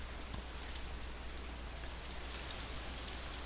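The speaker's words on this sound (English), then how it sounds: "Raindrops hit the umbrella, makes a distinctive sound" Rain pattering on an umbrella in the visual novel Katawa Shoujo, a steady close hiss of drops with occasional sharper taps over a low constant hum, unbroken and even throughout.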